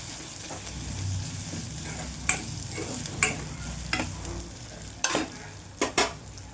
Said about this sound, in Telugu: అల్లం వెల్లిగడ్డ వేసి ఇట్లా మంచిగా దీన్ని కూడా వేయగనివ్వాలి.